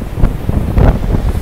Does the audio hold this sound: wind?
yes